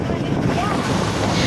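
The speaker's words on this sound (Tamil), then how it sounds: "கடல் அலை வந்து எவ்வளோ அழகாக வேகமாக வருது பாருங்கள்" Sea waves rushing in, heard from a boat on a boating trip near Manora jetty: a steady loud wash of water and wind roar across the whole clip, with no talk.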